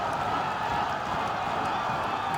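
Football stadium crowd at an I-League match between Mawlai SC and FC Raengdai, a dense, steady roar of cheering and clapping that holds at the same loud level throughout, with no pauses or distinct single voices standing out.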